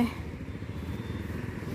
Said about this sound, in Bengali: বাইক লইয়া আইতেছে